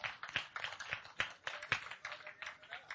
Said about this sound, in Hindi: तो आप सबके लिए जोरदार ताली